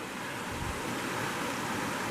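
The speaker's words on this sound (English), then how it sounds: "Not a bad little creek." Water of a creek on the Cispus River rushes and splashes in a steady, dense wash of broadband noise, close by and constant, with no voices over it.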